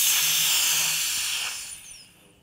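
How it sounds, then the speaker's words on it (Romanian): Air hisses steadily out of the valve on an Ozen HB300RE vacuum blender as the vacuum is released, a loud broadband rush that holds for over a second and then fades away. "Trebuie să dau drumul la valvă,"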